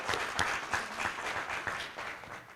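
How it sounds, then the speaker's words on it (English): An audience at a university debate between FNU and UoF teams in Fiji applauds the debaters, a brief burst of steady, fairly close clapping from a crowd that gradually fades. "another round of applause for our debaters today"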